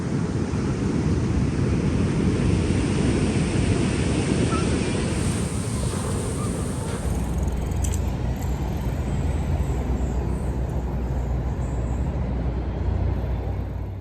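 Ocean waves breaking at the shore, a steady loud roar of surf with wind buffeting the microphone, shifting to a deeper, lower rumble partway through.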